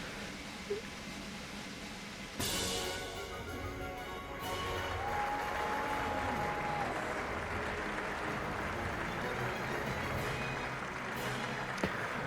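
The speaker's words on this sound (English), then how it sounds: "A rehearsal ended in a thunderous applause" Continuous applause from a large crowd in the video game The Legend of Heroes: Trails beyond the Horizon, steady and full, rising slightly after a sudden start and holding without letup.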